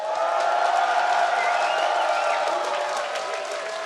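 A large esports crowd at a North American regional League of Legends match roars and cheers continuously, a dense sustained wall of voices that stays loud throughout.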